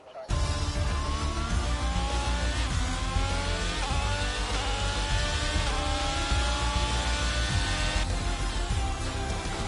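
A race car in a sim racing game engine drones and shifts through rising and falling pitch sweeps as it heads into the pit lane, loud and close, with a commentator talking over it.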